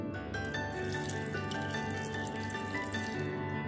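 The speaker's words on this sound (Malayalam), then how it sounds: "ബീഫ് വേവാൻ പാകത്തിന് ആവശ്യത്തിന് വെള്ളം ഒഴിച്ചു കൊടുക്കാം." Water pours steadily into a pot of beef being readied for pressure cooking in a Kerala-style beef roast, a continuous close splashing and running stream.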